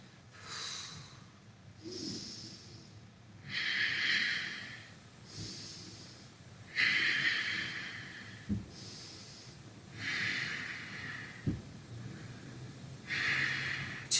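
Slow, deliberate breaths in and out during a chair yoga session, several close, airy breaths in a steady rhythm with pauses between them and a few soft thumps of movement.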